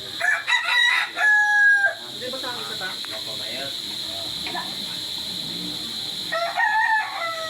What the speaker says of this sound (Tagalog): Ito yung manok oh.